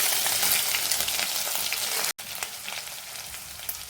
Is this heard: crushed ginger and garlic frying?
yes